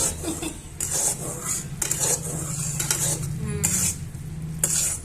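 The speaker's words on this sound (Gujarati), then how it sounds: "જો અહીંયા આપણે ઘી ને ગોળની ચાસણી તૈયાર થઈ રહી છે" A syrup of ghee and jaggery cooks in a pan for churma laddu while a spoon stirs and scrapes against the metal. A soft sizzle runs underneath, with repeated bright scraping strokes and no talking.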